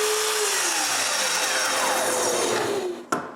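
A power saw cuts a strip of walnut wood into squares: a loud, continuous whirring rip that holds steady for about three seconds, then a sharp knock as the cut finishes and the blade winds down.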